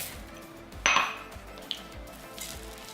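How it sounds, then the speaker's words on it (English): A utensil scrapes and clinks against a bowl while stirring grain-free tahini chocolate chip cookie dough, one clear clink followed by softer scraping taps in a quiet kitchen. "So just give this a stir."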